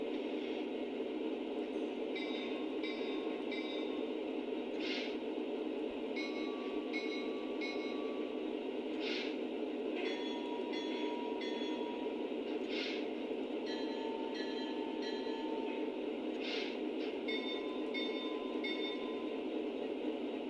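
A Lionel Legacy Norfolk Southern SD45 model diesel locomotive bell clangs steadily in a regular repeating rhythm over a constant low engine rumble, with brief bursts of hiss between strokes.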